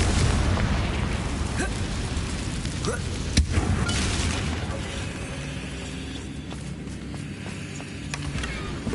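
A Confringo blasting spell strikes a damaged bridge in Hogwarts Legacy, a dense, roaring burst of rumble and debris with one sharp crack partway through, loud and sustained.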